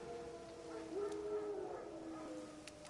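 Wild dogs howl faintly in the distance in the video game The Witcher 3, with a single drawn-out howl rising out of a quiet, muffled outdoor ambience.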